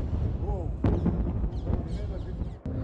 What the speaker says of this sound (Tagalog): maririnig naman ang mga pagsabog